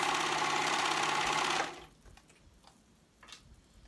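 A sewing machine runs steadily through three layers of sweater fabric for about a second and a half, then stops, leaving faint handling noises and a soft tap.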